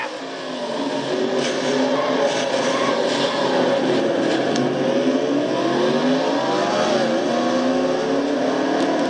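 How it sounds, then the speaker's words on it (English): Race cars roar and rev continuously in a night stock-car race at Bristol in a racing video game, Castrol GTX Cup Series, engines loud and close with layered whining pitches during an on-board crash sequence. "Crash happens right in front of her"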